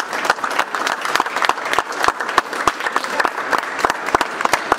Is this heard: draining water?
no